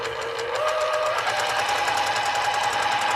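A home sewing machine runs steadily, stitching a quarter-inch seam on a candy cane stocking, a continuous fast mechanical whir and hum with a rapid needle rhythm holding at even loudness throughout.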